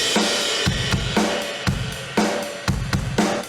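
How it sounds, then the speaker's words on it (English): Drums driven through a distortion plugin pound out a steady beat, snare and kick hits gritty, crunchy and saturated over a dense, noisy wash. "This has got a distortion plugin on it,"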